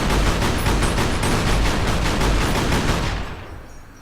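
Rapid automatic fire from a modded weapon in Fallout New Vegas, loud and close, a steady rattling stream of shots for about three seconds before trailing off into a fading echo.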